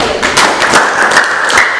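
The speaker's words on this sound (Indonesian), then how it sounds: "Tepuk tangan dulu" Students in a classroom clap their hands together, a brief burst of sharp, fairly close claps heard alone.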